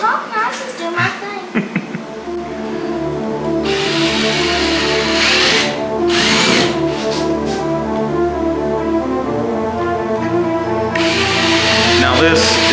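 A power drill runs during restoration of a 1968 Ford Galaxie, its steady motor whine rising into louder, harsher bursts of drilling, close up, with people talking over it.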